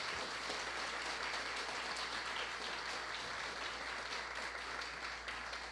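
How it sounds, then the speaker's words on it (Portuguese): Sustained applause from an audience at a national education committee meeting in Brazil, steady and fairly distant, filling the whole stretch without a break. "uma salva de palmas para todos eles"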